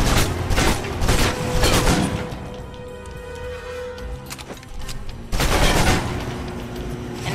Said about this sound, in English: If you're trapped in close quarters with multiple opponents, the SMGs can help clear the room quickly.